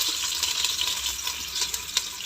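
Onion and curry leaves frying in oil in a pot, a steady close hiss and crackle of sizzling with faint stirring throughout, no voices.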